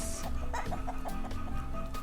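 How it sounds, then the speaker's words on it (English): Chickens cluck in a short run of clipped, repeated calls at close range. The clucking carries over a low farmyard background with no talking. "These are chickens."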